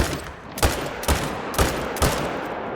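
Four evenly spaced, loud rifle shots from the Arzina 300 Mag Tactical in theHunter: Call of the Wild, each a sharp crack with a short echoing tail, roughly half a second apart, no talking.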